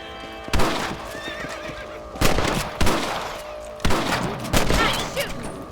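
Rifle shots fired in Red Dead Redemption: three loud, sharp blasts spaced about a second and a half apart. Each one rings out against an outdoor ambience in which horses whinny and hooves clop.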